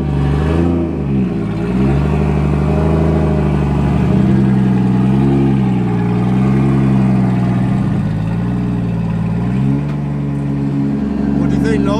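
Toyota JZX100 Mark 2 engine running rough and gnarly, close and loud, with a steady idle broken by several revving swells that rise and fall, while people talk nearby.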